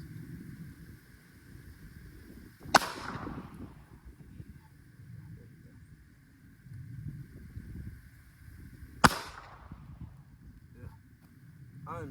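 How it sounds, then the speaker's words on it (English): Springfield Armory Echelon pistol fired right-handed outdoors, two sharp, loud shots spaced several seconds apart, with wind and low background noise between them. "so not used to shooting right-handed"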